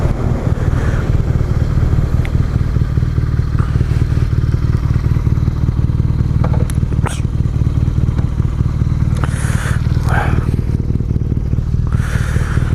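A BMW R nineT motorcycle slows and pulls over, its engine rumbling steadily close by while a dog barks intermittently in the background.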